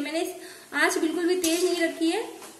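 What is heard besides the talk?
None of the usual background noises is heard.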